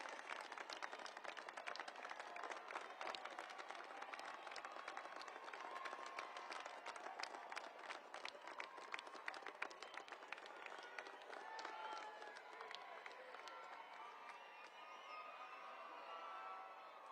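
Graduation ceremony audience at the United States Air Force Academy applauding graduates' families, a dense sustained wash of many hands clapping that thins slightly toward the end, with faint cheering in the crowd.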